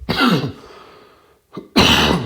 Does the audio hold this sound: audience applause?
no